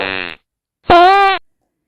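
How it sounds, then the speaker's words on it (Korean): Two loud, buzzy cartoon fart sound effects blare in a children's bedtime story, a short one followed after a pause by a longer, rasping blast, with no talk over them. "김 씨와 최 씨는 정신없이 방귀를 뀌어댔죠."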